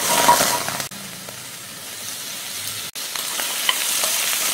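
Air-fried potato pieces are stir-fried in a pan, giving a close crackling sizzle with stirring scrapes that twice cut off abruptly before resuming.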